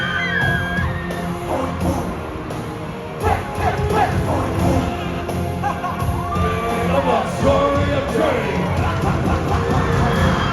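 A crowd of fans screams and yells continuously at a K-pop concert, a loud, dense wall of shrill voices with rising and falling cries layered throughout.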